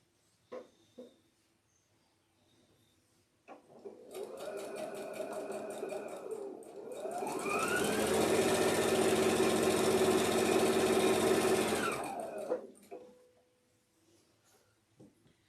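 A sewing machine stitching a quilt border runs in a steady mechanical whir, starting and stopping briefly, then holding a longer continuous run at close range before winding down.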